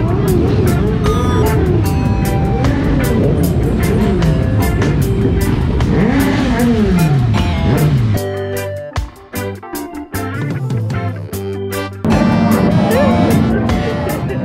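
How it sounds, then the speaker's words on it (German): Motorcycles ride around St Lucia during its Independence Day celebrations, engines roaring loudly and close, revving up and down continuously with a brief lull before the noise swells again. "Jeder, der ein Motorrad hat, fährt einmal um die Insel."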